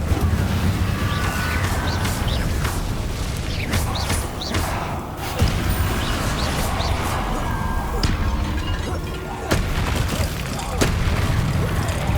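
Incendio fire spells in Hogwarts Legacy, a steady roaring barrage of booming bursts and crackling blasts that goes on throughout, with spell impacts landing in quick succession amid dense combat noise.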